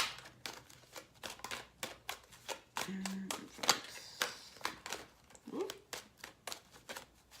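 Playing cards being shuffled in quick riffling bursts, close and fairly quiet, with a brief exclamation from a voice partway through.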